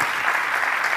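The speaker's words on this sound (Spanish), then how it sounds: "Y eso merece siempre un aplauso." A brief, dense burst of audience applause at a panel event, steady and fairly loud with no voices over it.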